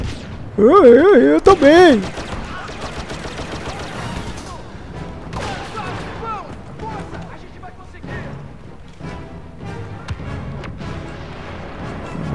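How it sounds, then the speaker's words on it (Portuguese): Explosive grenade blasts and gunfire from the Star Wars Battlefront video game, with a loud burst of sharp bangs early on, then continuing crackling shots and impacts under someone briefly speaking. "Granada explosiva"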